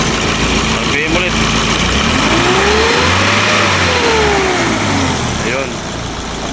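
An Isuzu 4HL1 diesel engine revs up and then settles back, its pitch rising and falling in one smooth loud sweep, with a steady rumble close by throughout.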